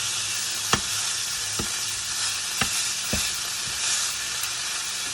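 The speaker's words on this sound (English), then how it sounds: "This is a pretty thick steak, so I'm probably going to cook it for a little extra time." Thick steak frying in a pan, a steady close sizzle with several sharp pops and crackles spaced irregularly throughout.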